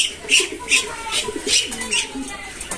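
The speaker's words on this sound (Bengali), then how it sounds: "এই হচ্ছে কবুতর" Pigeons coo in soft rhythmic pulses on a poultry farm, repeated throaty calls about every half second, close and clear over a low murmur of farm background.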